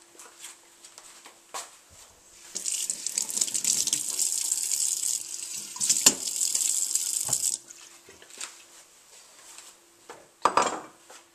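Tap water runs into a sink for about five seconds while garlic is rinsed, framed by light clinks of kitchenware before and after, close and steady with no talk.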